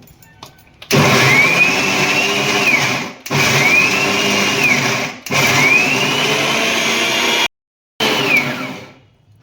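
A kitchen mixer grinder jar whirs loudly through green coriander chutney with salted peanuts in three long grinding bursts. Brief pauses separate the bursts, then a short final spin winds down near the end.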